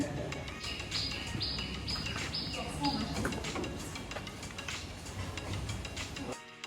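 A crocodile trainer in Thailand whistles a series of short chirping bird-like calls, mimicking birdsong, over a murmuring crowd.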